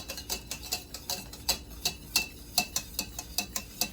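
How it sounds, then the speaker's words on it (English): A whisk beating sauce for bread pudding against the side of a bowl, making quick rhythmic clicking taps at a steady pace, close and fairly quiet, with no voices. "All I have to do is just whisk and whisk and just have fun with your sauce"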